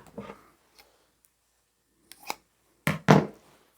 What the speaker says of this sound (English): Grab a piece that's about 7 inches long and cut it in half.